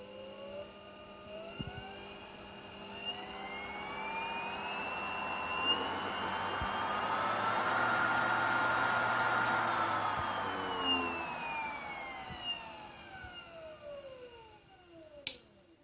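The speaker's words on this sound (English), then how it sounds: "this motor runs with the speed controller from around about 40 RPM all the way up to the maximum speed at 200 volts" A Chinese mini lathe motor running on a speed controller, its whine rising steadily in pitch to a peak and then winding back down, with faint clicks and a sharp snap at the end.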